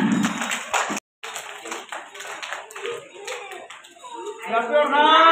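A group of people clapping their hands at a prize announcement, a steady burst of loud applause heard close over a speaking voice, with a brief cut and a high tone near the end.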